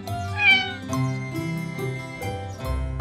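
A cartoon kitten meows repeatedly, several short high-pitched cries in a row, close and clear, with no one speaking.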